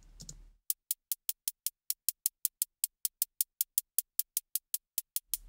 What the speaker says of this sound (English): So what I'm doing is I'm creating a series of 16th notes